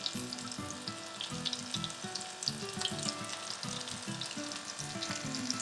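Vegetable kababs frying in oil on a flat tawa give a steady, close sizzle and crackle that runs throughout, with a few soft bursts of spatter and no talking.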